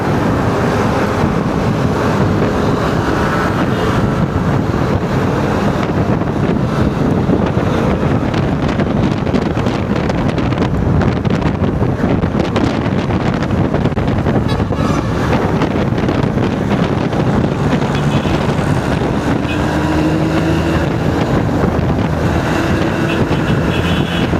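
A raised motorcycle fitted with new tyres rides toward North Fairview. Heavy, constant wind buffeting roars over the mic and nearly buries the low engine drone, with no pause across the ride.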